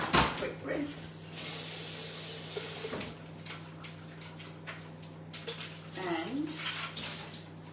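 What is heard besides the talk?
washing up and rinsing in kitchen sink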